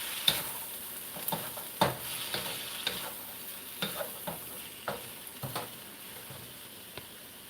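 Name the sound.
tossing seasoned vegetables in a pan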